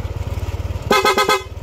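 A loud aftermarket motorcycle horn blares in three or four rapid bursts, close and piercing, over a low idling engine.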